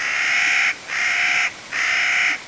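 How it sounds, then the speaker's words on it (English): A Clark's nutcracker at Yosemite National Park gives three loud, harsh, grating screeches close by, each nearly a second long and separated by short pauses. "At Yosemite, it's the screech of the Clark's nutcracker"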